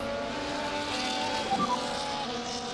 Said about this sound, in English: That is the sound of a car on the circuit.